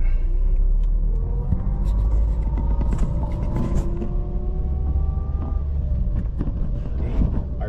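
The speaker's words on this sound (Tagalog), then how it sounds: "smooth shifting and smooth gear itong manual na Toyota Vios na to" A manual 2009 Toyota Vios drives over road humps, its engine rumbling steadily at low revs with road noise throughout and occasional bumps and knocks from the cabin, no voices.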